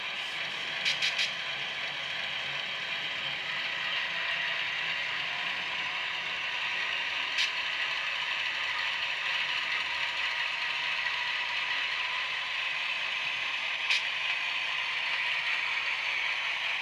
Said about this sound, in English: the compressor's quite loud too